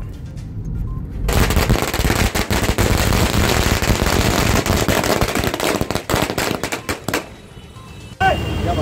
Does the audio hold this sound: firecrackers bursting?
yes